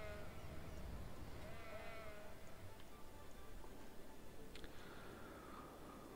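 Sheep bleating in the city-building game Cities: Skylines, several faint wavering calls repeating over a steady ambient game backdrop with no talking.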